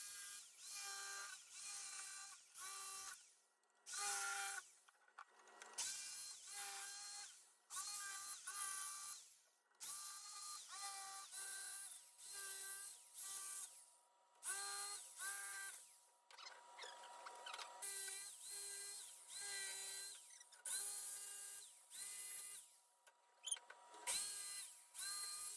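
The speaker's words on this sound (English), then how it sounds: "then we cut it out using the jigsaw" A jigsaw buzzes through wooden slats in repeated short bursts, stopping and starting many times with brief pauses between cuts, loud and close.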